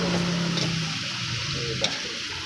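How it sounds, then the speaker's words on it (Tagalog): Pakbet being stirred in a hot pan, a steady close-up sizzle with soft scraping of the spoon running throughout, one brief sharper clink near the end. "Haluin natin ng maigi para sarap na sarap yung pakbit natin"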